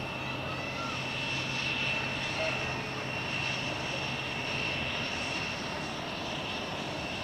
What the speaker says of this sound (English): So the Lufthansa is indeed an A319, it's now on the flight radar screen and going to Frankfurt